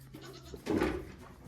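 A goat gives one short, loud bleat up close, rising out of quiet farm background sound.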